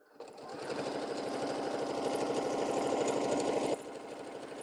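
Sewing machine running steadily for about four seconds while stitching off the edge of a quilted four-patch table mat, a fast even whirring hum close to the mic, then stopping abruptly.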